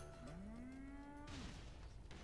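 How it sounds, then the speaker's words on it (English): Gecko robots in the Metal Gear Solid video game let out a long, rising-then-sustained cow-like moo, tonal and fairly close, followed by a burst of noisy mechanical rumble as it ends. "these are geckos. They moo."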